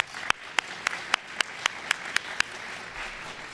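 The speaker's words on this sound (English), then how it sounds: "Let's give a round of applause" At a gathering of educators in Allentown, one nearby pair of hands claps about nine times at an even pace, crisp and distinct over a quiet room tone.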